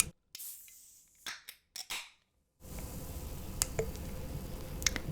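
A can of Guinness beer is opened up close: sharp metallic clicks and a brief crack of the tab, followed by a faint hiss and fizz with a few tiny pops.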